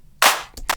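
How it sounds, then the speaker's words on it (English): Layered clap samples from a mid-tempo drum track built in Ableton hit in a quick pattern: one thick, wide clap, then a pair of shorter, sharp hits, all dry and up front. "And then the drums on here, I basically have a couple layers of claps."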